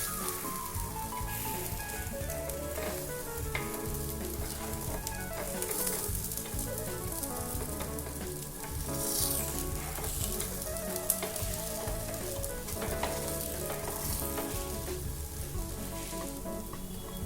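Jowar flour appe sizzle in oil in an appe pan, a steady close crackling fry that runs all through with light stirring sounds mixed in.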